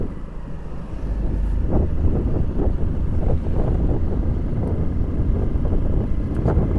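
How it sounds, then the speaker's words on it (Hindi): A cool wind blows during a mountain motorbike ride near Mussoorie. It comes through as a steady, loud roar of wind buffeting the microphone, with rumbling road and engine noise underneath and no talk. "अब ठंडी ठंडी हवा चल रही है मस्त"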